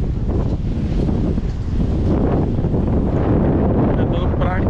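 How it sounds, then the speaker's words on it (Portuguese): Strong, steady wind at a beach roars and buffets the microphone throughout, a continuous rumbling blast with no break, at Praia Grande, Arraial do Cabo, Brazil, during a storm swell. "tá ventando muito, muito mesmo"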